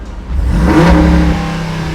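A Jeep Grand Wagoneer's 470-horsepower V8 revs hard once through a valved exhaust, its deep throaty roar rising and holding briefly before easing back toward a rumbling idle.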